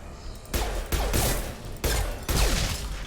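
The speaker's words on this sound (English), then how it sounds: "they explode when they die" Enemies blowing up as they die in a sci-fi shooter video game, four heavy blasts in quick succession, each a loud broadband burst with a rumbling tail, no talking.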